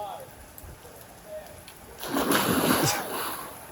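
Rain falls at an outdoor swimming pool in cold weather. The patter is soft and steady at first, then swells into a louder splashing hiss for the second half, with faint bird calls.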